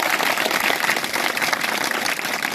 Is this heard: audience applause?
yes